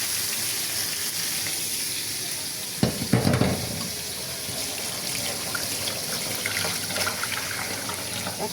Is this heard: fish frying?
yes